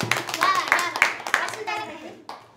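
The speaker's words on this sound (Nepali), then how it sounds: "ताली बजाऊ" Children clapping hands at a home birthday party with cake, a few uneven bursts of claps close by mixed with excited children's voices talking and calling out.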